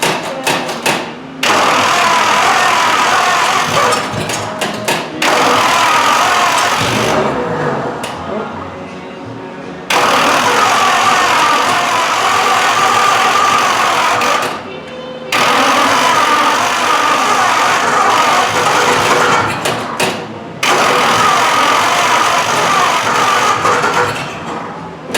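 A chopped 1950 Ford Shoebox that has sat for over 20 years cranks and runs in loud bursts up close. The engine catches and idles roughly several times, cutting out between attempts, with brief pauses of quiet.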